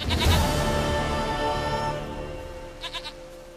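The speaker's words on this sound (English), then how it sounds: "Goat of mine, dearest, sweetest goat." A goat in The Witcher 3: Wild Hunt lets out a loud, close, wavering bleat lasting a couple of seconds, followed by a few faint clicks.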